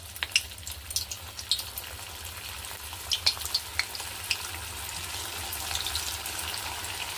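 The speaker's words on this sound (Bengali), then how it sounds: "এগুলোকে আমি তেলের মধ্যে দিয়ে একটু লাল লাল করে ভেজে নেব।" Vegetable manchurian balls frying in hot oil, a steady soft sizzle with scattered crisp pops and small clinks near the start and middle, fairly quiet and close, no voices.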